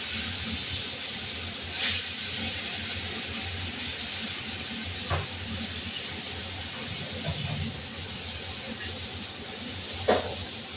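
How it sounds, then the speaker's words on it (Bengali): Small poa fish fry in a pan with a constant loud, broadband sizzle and occasional pops and spatters, while someone talks faintly in the background. "এই যে আরো মাছ ভাজা, এই মাছ থেকে ফুটছে, এগুলোকে বলে পোয়া ভাজা।"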